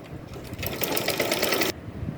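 A sewing machine stitches the yoke of a nightgown, a short close burst of steady mechanical whirring for about a second amid quiet room noise.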